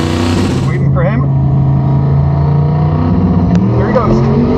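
A streetable, tagged drag truck launches down a quarter-mile strip, its engine a steady loud roar throughout with a rising note near the end, while someone talks excitedly over it.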